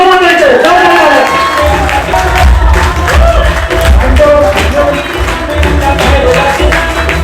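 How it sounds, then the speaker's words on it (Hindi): An audience claps and cheers to welcome a speaker onto a stage, a loud, dense wash of applause and crowd noise that runs throughout, mixed with amplified voices. "मैं आपकी जोरदार गर्मजोशी के साथ में तालियों से स्वागत करवाना चाहूंगा"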